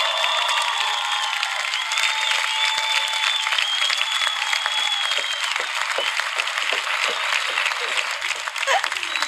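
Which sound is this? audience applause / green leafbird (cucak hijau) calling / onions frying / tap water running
audience applause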